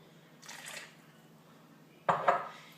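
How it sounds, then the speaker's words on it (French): A small splash of water added to an amla powder mixture in a bowl, two brief, clinking wet sounds separated by a quiet pause, close and fairly soft. "je vais rajouter un tout petit peu d'eau, mais vraiment légèrement"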